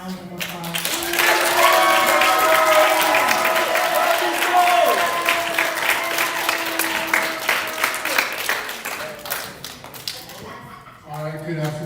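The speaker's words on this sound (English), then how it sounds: "Please give him a loud round of applause." A school audience applauds a class's reader's theater performance, loud sustained clapping with voices talking through it before fading.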